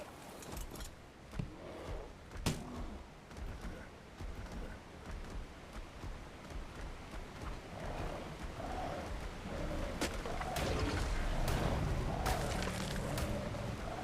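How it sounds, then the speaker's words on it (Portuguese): A waterfall rushes in the nature ambience of ARK Ultimate Mobile's Aberration map, a continuous broadband roar that holds steady and grows somewhat fuller toward the end. "Eu até tentei abaixar aqui um pouco mais o barulho da natureza. Mesmo assim ele está um pouco alto. Por causa da cachoeira"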